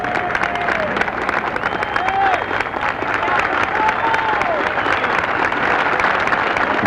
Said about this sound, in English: Now cheering from, I think, the 18th puts him off